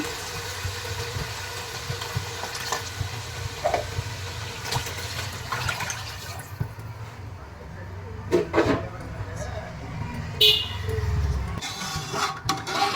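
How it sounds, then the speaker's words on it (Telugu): Water is poured into a pot of chicken biryani, a running, gurgling pour under a low background hum, interrupted by clanks and a close splash, with speech at moments. "వాటర్ వేసుకుంటున్నాను."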